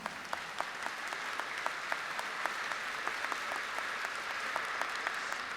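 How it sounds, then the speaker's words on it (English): Sustained applause from an audience for a choir after a chanting performance at a festival of mantra chanting, with many hands clapping in an even, continuous patter that stays fairly soft and steady throughout. "please give them another big round of applause."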